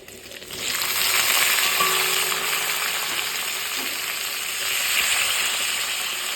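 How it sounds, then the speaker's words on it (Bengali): Banana flower curry fries in a pan with a steady, dense sizzle that swells after a quiet start and holds evenly, close by with no talking. "সুন্দর করে একটু ভাজা কমপ্লিট হওয়া অবধি ওয়েট করবো।"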